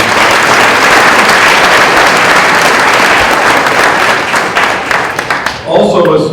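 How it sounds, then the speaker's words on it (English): Loud, sustained applause from an audience at a high school winter sports awards ceremony, a dense wash of clapping and crowd noise that fades near the end as it gives way to scattered sounds. "So a round of applause for these."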